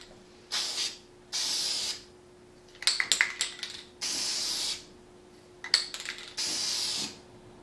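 Aerosol spray paint hissing in four long bursts of about a second each, close and fairly loud, over a table laid with protective covering, broken by clicks and rattles of the can between sprays.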